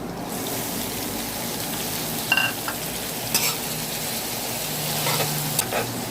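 Glass noodles stir-fried in a pan for a vegetarian dish sizzle steadily with a wet crackle, punctuated by a few clinks and scrapes of the utensil.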